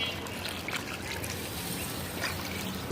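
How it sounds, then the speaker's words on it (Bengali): Broth trickles steadily into a pot of browned, simmering beef, a continuous soft pouring and sizzling wash lasting a few seconds. "এখন পরিমাণ মতন ঝোল দিয়ে দিই"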